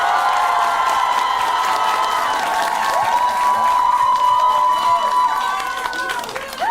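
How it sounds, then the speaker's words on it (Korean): A packed crowd at an indoor political rally applauds and cheers steadily, a dense continuous roar of clapping with whistles and shouts that holds for several seconds before easing slightly. "모든 분들께 큰 박수 한번 부탁드리겠습니다."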